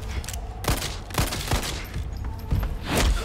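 Gunfire from the Resident Evil 4 Remake video game: a rapid irregular series of sharp shots, about seven loud cracks spread across the span over a busy, noisy game backdrop.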